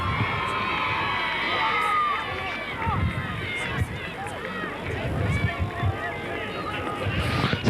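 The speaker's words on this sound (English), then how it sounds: "Paul Turl getting a great round of applause there from the Tinahely supporters" Tinahely supporters at the 1984 Tinahely v Valleymount football final cheer and applaud as a steady, dense crowd roar with shouts, while a commentator talks over it throughout.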